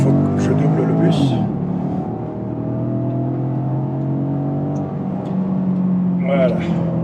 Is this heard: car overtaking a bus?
yes